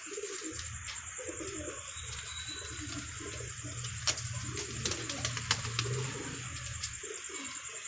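Pigeons cooing nearby in a steady stream of soft, rolling low calls, set against a constant background hum and a few faint clicks.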